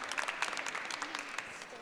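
An audience applauds after a team pitch at a fashion sustainability thinkathon, with a brief, steady burst of many hands clapping at moderate loudness.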